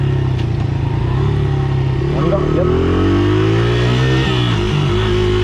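A Honda XR motorcycle engine revs up and down loudly and close by, with a few brief spoken words over it.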